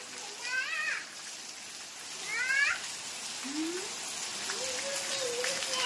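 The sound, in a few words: heavy rain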